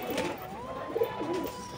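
A domestic pigeon coos nearby in its loft, giving a few soft, rolling low calls in a quiet setting.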